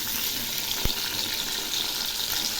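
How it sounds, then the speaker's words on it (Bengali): Potol pieces fry and get stirred in a pan: a constant crackling hiss, with one sharp knock of a utensil against the pan near the start. "এই পটলগুলো আমি বারবার উল্টে পাল্টে দেব, আর ঘন ঘন নাড়তে থাকবো।"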